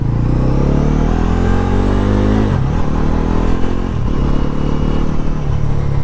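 A 2026 Honda NS 400Z motorcycle with a quickshifter accelerates hard in sports mode. The loud, close engine note rises, breaks briefly at quick gear changes, then climbs again.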